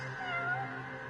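A cat in the video game Judgment gives a single drawn-out, close meow, clear and steady, with no other sound around it.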